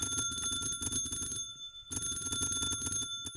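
Loud repeating electronic bell ringing in the Minecraft modpack GTNH, a sustained metallic tone that continues with a brief dip near the middle, with no speech over it.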